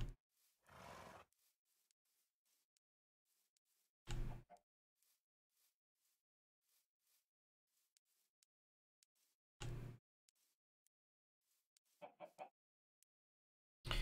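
Minecraft chickens cluck in sparse, isolated bursts spread over several seconds of near silence, each call brief and fairly faint.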